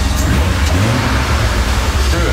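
A BMW 1 Series convertible fitted with a 328 intake camshaft runs at a smooth, steady idle, giving a low, even rumble close by. Voices can be heard over the engine.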